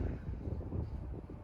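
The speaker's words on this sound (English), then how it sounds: "Again, wind." Low, buffeting wind rumbles into the microphone on an outdoor disc golf course at the NADGT Championships, loud and continuous with gusty swells.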